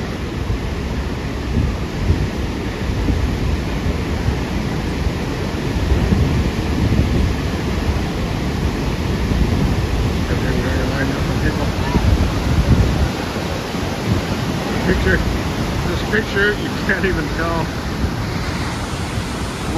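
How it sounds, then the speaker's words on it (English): Waterfall at the Cave of the Winds at Niagara Falls, New York, gives a loud, steady, broadband roar of crashing water throughout, with faint voices underneath near the end. "These little falls are coming down."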